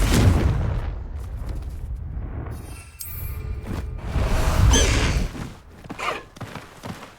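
A Confringo blast spell fired in Hogwarts Legacy, a loud, booming burst with heavy low rumble, flaring again in a few shorter explosive hits toward the end.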